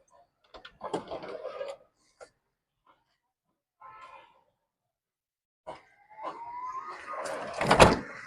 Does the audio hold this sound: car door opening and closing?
yes